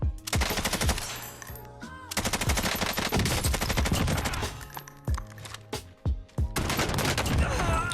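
Rapid blasts from a Gallo SPAS-12 shotgun in the game Warzone, loud close repeated shots in quick bursts with short gaps and game sound effects between them.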